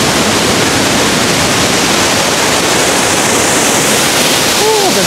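Aliw Falls, a waterfall, pours in a loud, constant, dense rushing roar that fills the whole clip without a break, while a voice is faintly heard near the end.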